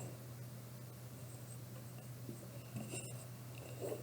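Pen scratching on paper while writing out an amount of money, soft, steady scratchy strokes close by over a low constant hum, quiet with a few slight taps.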